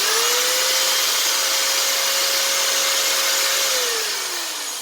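A power drill spins to clean a small brushless RC drag-racing motor during bearing maintenance, giving a steady high whine that holds pitch for several seconds, then slows and drops at the end, close and loud with no talk.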